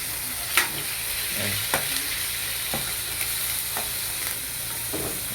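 Adobo seasoned with oyster sauce and barbecue sauce sizzles steadily in a frying pan while a spoon stirs it, with several sharp scraping clinks against the pan over a constant hiss.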